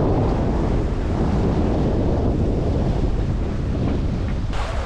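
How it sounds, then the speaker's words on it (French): Sea waves and wind on open water aboard a sailboat: a loud, continuous rushing roar of gusting wind and surf buffeting the microphone, steady throughout with no talking. "la mer est plus calme ici. Les vagues sont plus distancées, moins courtes, moins hautes."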